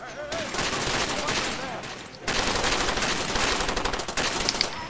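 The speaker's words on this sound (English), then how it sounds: "I'm just hearing snipers" Sniper and automatic gunfire from the video game Far Cry 2, loud dense volleys of shots crackling continuously with a brief break midway, mixed with game ambience.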